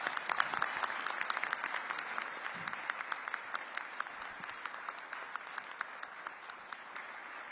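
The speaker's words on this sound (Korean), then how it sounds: "일어나서 큰 박수 부탁드립니다." Sustained audience applause at a government work briefing, many hands clapping steadily and evenly throughout, moderately loud and with no speech over it.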